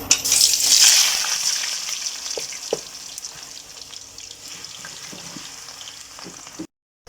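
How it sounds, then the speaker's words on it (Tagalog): Potatoes frying in Star margarine in a pan: a bright, hissing sizzle that is loudest at the start and then settles into a steady, softer crackle with a few small knocks, close by, no voices. "Sa star margarine po natin igigisa ang ating piprito muna natin guys ang patatas."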